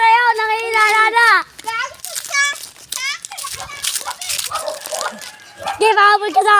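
A dog gives high, wavering yelps and whines, then short barks, close by and mixed with children's voices and excited chatter throughout.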